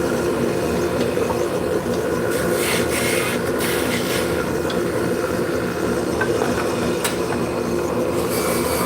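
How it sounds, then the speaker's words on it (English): Wood being burnished with a handful of wood chips, a steady close rubbing and scratching texture that runs continuously without pause, with brief brighter scrapes now and then. "Now we're just going to burnish with some wood chips."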